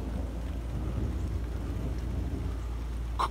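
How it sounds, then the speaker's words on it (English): Continuous soft rain with a low, rumbling wash underneath, steady and fairly distant, with one brief sharper sound near the end. "I hear rain."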